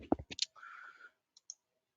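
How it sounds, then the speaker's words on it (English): A mouse click on a Next button during a computer setup, heard as a couple of small, sharp clicks close to the microphone with a soft faint murmur between them, otherwise quiet. "I click next."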